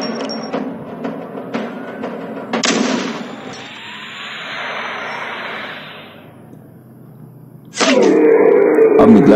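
Sniper rifle fire in the mobile shooting game Aim Of Legend Sniper: several sharp gunshot cracks with echoing tails, then a sustained whooshing bullet-flight sound and a final loud impact blast, all game effects without talk.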